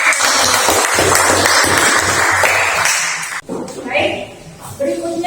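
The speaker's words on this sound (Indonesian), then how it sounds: "Kita beri tepuk tangan." Students clapping for a group returning to their seats in a classroom, a dense burst of applause that fades after a few seconds into quieter room sounds and brief voices.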